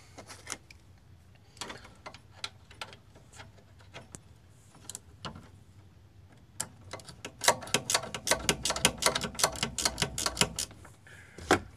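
Bolts on a BMW E46 driveshaft are tightened with 13 mm wrenches, giving sparse metallic clicks and taps that turn into a quick, busy run of ratchet-like clicking toward the end, close and fairly quiet.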